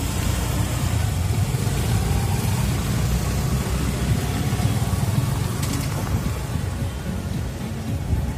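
A motorcycle moves through traffic with a steady, dense low rumble of engine and road noise that stays constant throughout, with no voices.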